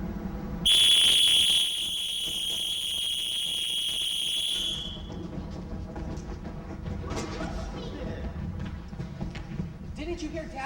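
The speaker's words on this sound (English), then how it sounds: "Didn't you hear Dad whistle?" A loud, steady high-pitched whistle blows for about four seconds during a school theater performance of "Cheaper by the Dozen," then fades into a murmur of background noise and movement.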